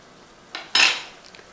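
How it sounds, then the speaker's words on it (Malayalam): A spoon stirs cauliflower florets in a pot of boiling water with turmeric and salt, giving one soft scrape followed by a louder clatter against the pot, then faint light taps. "ഇനി ഒന്ന് ഇളക്കി കൊടുക്കുക."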